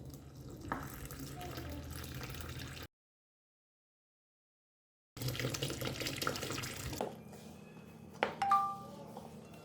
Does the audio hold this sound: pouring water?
yes